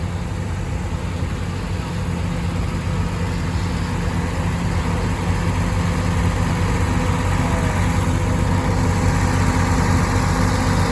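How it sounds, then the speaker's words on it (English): A Ford 4000 classic tractor runs at a steady idle at a tractor show, its low engine rumble continuous and fairly loud for the whole stretch with no clear voices. "Ford 4000, one of Ralph Greichman's tractors"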